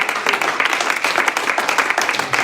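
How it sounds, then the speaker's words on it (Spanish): A church congregation applauds during a Spanish-language sermon, clapping that builds into a loud, uneven round of hand claps filling the sanctuary. "Y un aplauso al Señor."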